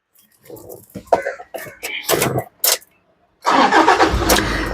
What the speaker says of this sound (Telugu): ఈ కారు సింగిల్ సెల్ఫ్ లో స్టార్ట్ అవుతుందా లేదా అన్న చూపిస్తున్నాను చూడొచ్చండి